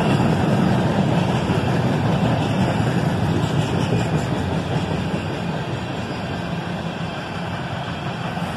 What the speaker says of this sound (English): the end of the train is a cut of empty steel slab cars